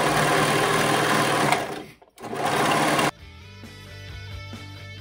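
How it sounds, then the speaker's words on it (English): Serger sewing machine finishing the raw edges of fabric, running in a loud steady whir that briefly stops near the two-second mark, then resumes before dropping to a quieter rhythmic hum. "over to our serger. Time to sew those edges together."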